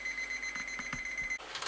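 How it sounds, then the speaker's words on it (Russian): A kitchen timer beeps steadily in a home kitchen, a rapid run of close, bright electronic pulses. Brief clatter follows near the end. "Мы включим этот таймер на 1:20."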